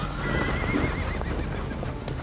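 Horses whinny loudly with wavering cries over the clop of hooves in a scene from the TV series The Last of Us, set against a dense, steady background of sound throughout.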